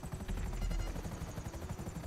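Helicopter in the video game Grand Theft Auto V during aerial dogfighting, a low, throbbing rotor chop with steady pulsing beats and engine whine, loud and continuous.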